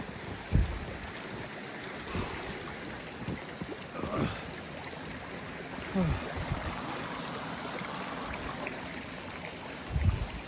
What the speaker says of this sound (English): That's the beautiful little creek here.